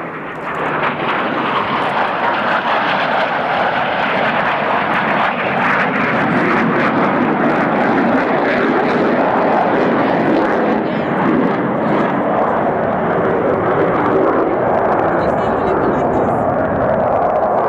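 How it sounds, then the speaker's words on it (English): Blue Angels jets flying an opposing inverted pass at an air show, heard as a loud, sustained engine roar that swells and holds throughout, with an announcer's voice over it. "Roll their aircraft 180 degrees and cross over center point, upside down, the opposing inverted pass."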